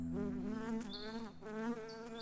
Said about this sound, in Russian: первый звук в самом мультфильме — это звук мух.